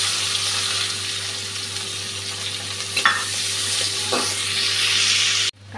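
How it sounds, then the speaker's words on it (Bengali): A bay leaf and onion frying in a pan give a steady, close sizzle, with brief stirring scrapes near the middle before the sound cuts off abruptly at the end. "তেজপাতাটা দিয়ে দিচ্ছি, পেঁয়াজটাও দিয়ে দিচ্ছি।"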